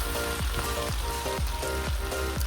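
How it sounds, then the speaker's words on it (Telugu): Washed gongura leaves frying in hot oil, a loud dense sizzle and spatter with sharp crackling pops recurring at a quick regular pace, close and continuous with no voices. "ఇప్పుడు ఈ కడిగిన గోంగూరను ఈ ఆయిల్లో వేసుకొని మగ్గనివ్వాలి"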